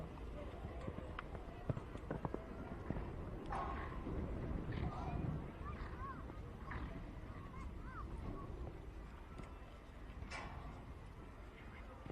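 Horse hooves from a campdraft ride as Matthew Dunn rides Lace in a maiden final at Juandah Plains, a steady muffled drumming under crowd noise and a faint commentator voice, with scattered sharper thuds.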